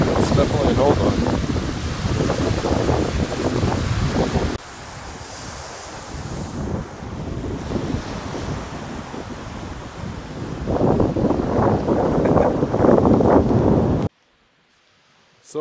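Strong wind gusts roar across the microphone on a Lake Michigan beach, mixed with rushing surf, loud and continuous before easing briefly and then swelling again, with a voice faintly under it.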